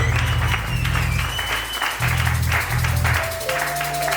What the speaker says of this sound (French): Acclamons aussi pour eux